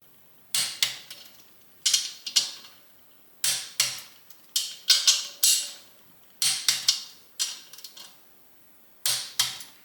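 Ratcheting wrench clicks in repeated short bursts, close and clear, as engine cover bolts on a big bore Harley-Davidson Twin Cam are torqued in a crisscross pattern, with brief pauses between each pass.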